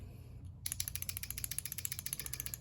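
A Zeal Clickiez mechanical keyboard switch with a keycap fitted is pressed repeatedly in close, crisp clicks, coming in a steady fast rhythm after a brief quiet start.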